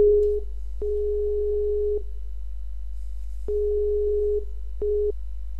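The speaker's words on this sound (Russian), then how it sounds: "Мы звоним ему." Phone tones while calling someone: a steady electronic beep sounds in tone bursts of uneven length with short silent gaps, clear and close, over a constant low hum, with no talking.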